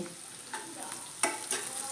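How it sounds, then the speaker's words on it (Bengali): Onion fries in a pan as ginger garlic paste is stirred in, giving a close, continuous sizzle with a few sharp scraping stir strokes. "আমার পেঁয়াজটা একটু হালকা ভাজা হয়ে গিয়েছে এবার এর মধ্যে আমি একটু অল্প পরিমাণে আদা রসুনের পেস্ট দিয়ে দেব"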